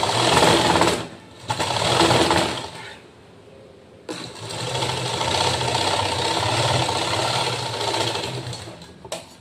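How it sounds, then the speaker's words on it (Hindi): A sewing machine stitches a blouse in loud, fast mechanical bursts. Two short runs are cut by brief pauses, then a longer steady run follows, all close by with no talking. "इस वाले पार्ट पर हमें सिलाई मारनी है"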